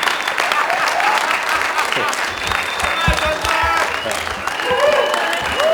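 Assembly audience breaking into applause and cheering after a vote, a dense sustained wash of clapping with shouts mixed in, loud and steady for several seconds with voices audible throughout.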